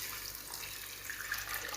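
Water pours into a cooking pot of chicken salona, a soft continuous splashing rush heard close and fairly quiet.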